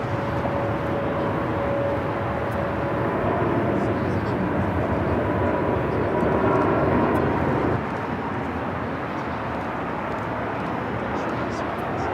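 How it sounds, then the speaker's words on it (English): A Boeing 787 Dreamliner bound for Seoul takes off at Los Angeles International Airport, a steady distant jet roar that swells slightly and then eases, with talk on top. "And we have our first takeoff happening right now."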